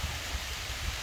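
Rain falls in a steady soft hiss with low rumbling gusts underneath, continuous and fairly close, with no talking.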